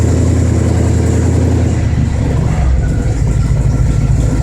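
A cold engine fitted with a freshly rebuilt Autolite 4100 carburetor idles steadily, a continuous low rumble with a slight change in tone partway through, loud and close with no talk.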